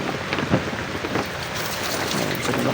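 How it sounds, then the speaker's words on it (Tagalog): Heavy rain pours down in a backyard, a dense, loud, steady hiss of drops striking surfaces with no pauses. "Lakas ng ulan sa amin"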